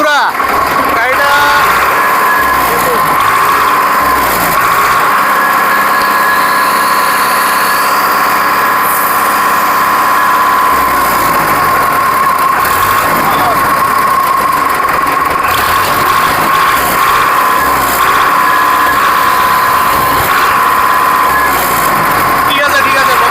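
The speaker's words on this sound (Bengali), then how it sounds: "একটু ইঞ্জিনের সাউন্ডটাও শোনা দাও।" Second-hand tractor engine running at a showroom, a loud, steady idling drone with a strong hum and rattling vibration, with voices talking over it.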